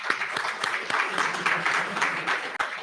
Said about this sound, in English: give everyone a big round of applause one more time